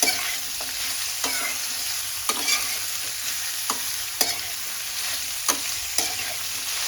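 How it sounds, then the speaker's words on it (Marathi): Snake gourd sautéing in oil in a pan gives a steady sizzle, broken every second or so by sharp scrapes and clacks of a spatula stirring, close and alone with no talk. "दोन ते तीन मिनिट आपण तेलात व्यवस्थित असं परतवून घ्यायचं अगदी व्यवस्थित"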